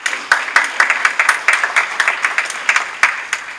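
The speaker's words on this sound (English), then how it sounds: "So students, please give a round of applause to your parents." Students clap for their parents at the 2015 WILLCO awards ceremony, a close, loud round of applause where individual claps stand out in a brisk, uneven rhythm from a modest group.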